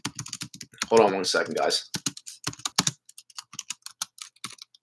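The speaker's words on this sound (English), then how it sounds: "I'm just typing something." Quick, irregular clicks of someone typing on a computer keyboard, close and crisp, with someone speaking briefly over the first bursts of keystrokes.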